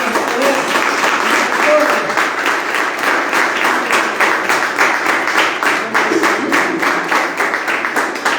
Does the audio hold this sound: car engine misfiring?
no